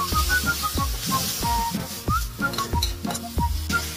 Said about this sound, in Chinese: 继续大火翻炒